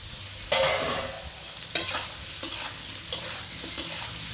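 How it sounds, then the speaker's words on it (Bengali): Eggplant and potato pieces fry in oil. A close, continuous sizzle is punctuated by five distinct spatula scrapes against the pan at irregular intervals. No voices are heard. "বেগুনগুলি দিয়ে ভালো করে আমি ভেজে নেব।"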